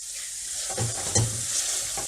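Lamb curry mixture with white vinegar is stirred in a pan, a soft sizzle under a couple of quick scraping stirs, close and brief, without talk.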